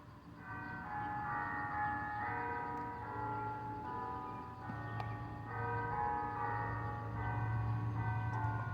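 Church bells chiming at 5 pm, a steady ringing of overlapping tones that carries on without pause throughout, fairly close and full.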